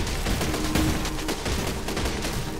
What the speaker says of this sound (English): Oh, so it's a machine gun.